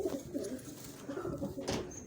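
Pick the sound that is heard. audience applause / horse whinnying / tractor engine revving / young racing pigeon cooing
young racing pigeon cooing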